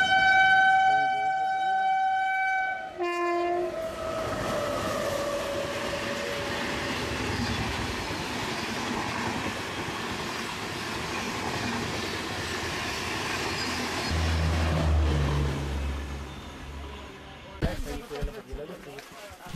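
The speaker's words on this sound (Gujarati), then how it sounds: "અત્યારે હાલ એક ટ્રેન આવી રહી છે અમારા સાઈડના ટ્રેક ઉપર" At Tapri railway station a train pulls in on the adjacent track, opening with a long horn blast. A loud, close rumble and clatter of rolling wagons follows, with a siren-like tone, and a brief clanking burst comes near the end.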